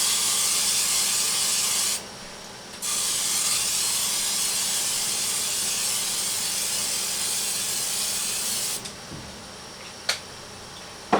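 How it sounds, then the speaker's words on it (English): A loud, continuous hiss of olive oil spray onto a pan on medium-low heat, pausing once briefly, then stopping, followed by a few faint clicks and taps. "I'm going to spray it really good with olive oil"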